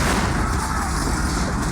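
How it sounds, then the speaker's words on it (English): A loud, continuous roar of an explosion in the video game Steven Seagal's True Justice fills the short stretch, a dense rumbling blast without any pause. "Big explosion kills a lot of people."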